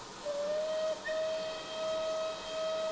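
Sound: steam locomotive whistle in Train Simulator Classic video game

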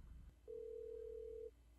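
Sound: phone call ringing tone

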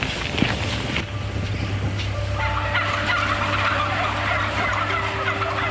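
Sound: crowded birds gobbling in a barn

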